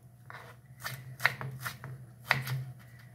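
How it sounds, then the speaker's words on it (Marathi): A knife chopping tomatoes on a cutting board for an eggplant curry, giving a run of separate, fairly close cuts at an uneven pace with a couple of sharper knocks and no talk. "टोमॅटो चिरून घेऊया."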